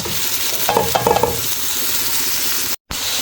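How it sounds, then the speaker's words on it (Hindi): Sliced onions hit hot oil in a kadhai and fry with a steady, close sizzle, a few stirring clinks partway through and a brief dropout near the end. "अब इसमें प्याज ऐड कर देंगे"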